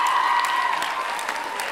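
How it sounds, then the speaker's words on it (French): An audience claps at a French stage performance of the musical Mamma Mia, producing a steady wash of applause for the whole brief moment, with a sustained tone lingering underneath. "un grand applaudissement"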